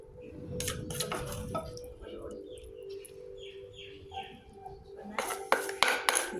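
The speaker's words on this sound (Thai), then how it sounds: "เดี๋ยวก็มาตักใส่จานเลยนะคะ" Papaya salad is scooped onto a large plate. Scattered clinks and scrapes of utensil on dish come in two clusters, with birds chirping and a faint voice in the background.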